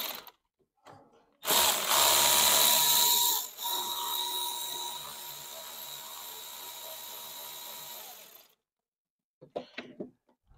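A power tool whirs loudly for about seven seconds, with a brief dip partway, while unscrewing the MAP sensor on an Arctic Cat Catalyst 600 during a turbo kit install. It is followed by quiet and a few faint clicks.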